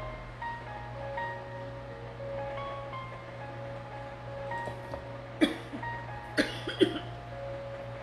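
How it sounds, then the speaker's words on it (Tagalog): A woman with a lingering cough lets out a few short, sharp coughs close to the microphone in an otherwise quiet room with a low hum. "Di pa magaling ang ubo ko eh."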